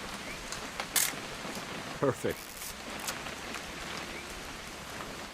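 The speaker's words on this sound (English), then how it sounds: "It's gonna rain the whole weekend, isn't it?" Steady rain hissing in the video game What Remains of Edith Finch, a soft, constant wash of drops with a few sharper clicks and knocks, while a voice speaks briefly.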